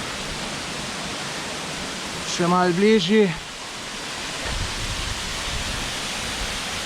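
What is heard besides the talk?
waterfall in Pekel gorge, Slovenia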